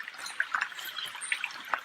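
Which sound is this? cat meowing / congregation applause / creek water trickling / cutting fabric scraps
creek water trickling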